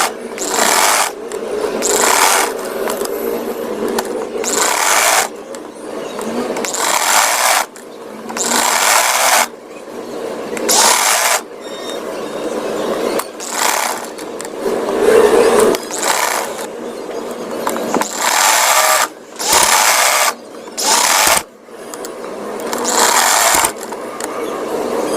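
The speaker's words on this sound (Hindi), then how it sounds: "और अब ये गले की सिलाई किनारे किनारे की लगा के इसे पलट के तैयार कर लेते हैं।" A sewing machine stitching around a neckline runs in loud close bursts of rapid whirring, each a few seconds long and separated by short pauses, with no one speaking.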